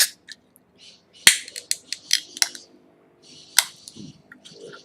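A 650 ml Sapporo beer can is cracked open with sharp metallic snaps and clicks as the stiff tab is worked, close up against otherwise quiet surroundings.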